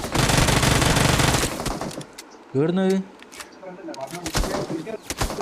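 Gunfire in the mobile game Battlegrounds Mobile India: a dense burst of rapid automatic shots fills the first second and a half, followed by someone speaking over quieter game sound.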